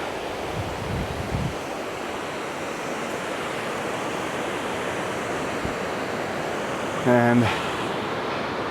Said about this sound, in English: there's a little overlook to the Daniels Dam